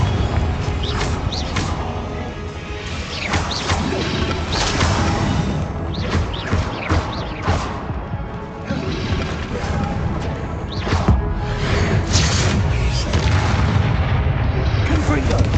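Hogwarts Legacy's Confringo blast spell sets off repeated booming explosions among dense, continuous combat noise from the video game, loud and layered with little pause.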